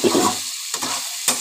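Boiled soybean chunks fry with vegetables in a pan for chowmein, giving a steady sizzle broken by a few sharp scraping stirs of a spatula, close and with no voices.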